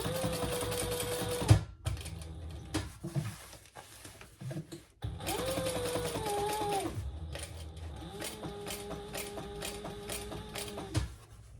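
Sewing machine stitching a full-allowance seam with a 90-degree turn on a triple sling, running in several steady whirring bursts broken by brief stops, close and clear with no talk.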